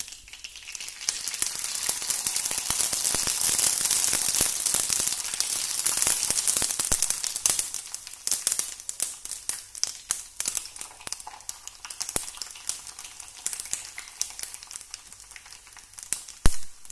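Sabudana papad sizzles and crackles in hot oil. A dense, bright hiss swells and then breaks into scattered popping crackles as the frying continues, heard close up with no talk.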